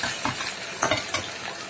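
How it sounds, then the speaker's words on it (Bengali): Dried fish fry with onions in a pan, making a brief, close, continuous sizzle punctuated by a few stirring scrapes, with no voices. "ওকে নেড়ে চেড়ে এগুলো তো পেঁয়াজের সাথে ভেজে নিই।"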